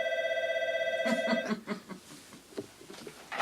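An office telephone rings with a steady electronic trill for about a second, then cuts off as people begin talking and moving nearby.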